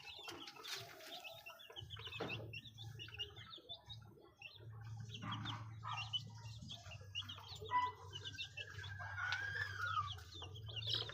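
Hens clucking softly and repeatedly around a Filipino poultry coop with newly hatched chicks, with bird chirps and a low steady hum in the background throughout.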